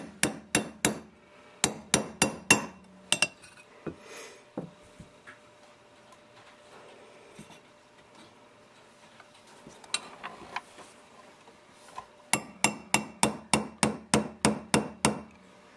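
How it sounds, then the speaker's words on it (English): Sharp metal hammer strikes drive a roll pin into an AR-15 lower receiver, ringing out in quick bursts of several blows, with pauses of quieter tapping and fiddling between, then a final rapid series. "You're just going to hammer it in there."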